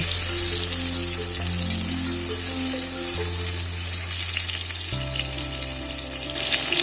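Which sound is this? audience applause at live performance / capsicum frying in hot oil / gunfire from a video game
capsicum frying in hot oil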